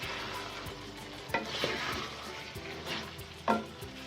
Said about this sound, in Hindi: अब हम इसमें डाल देंगे बैंगन और बैंगन की भी 5 मिनट ही बुनाई करेंगे हम